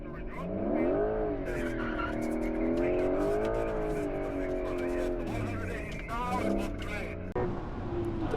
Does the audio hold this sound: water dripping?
no